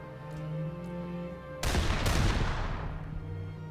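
A loud broadband burst of gunfire in The Lamplighters League, a turn-based game, erupts suddenly over a steady musical drone and decays over about two seconds.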